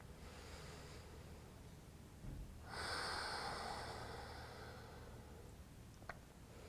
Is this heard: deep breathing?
yes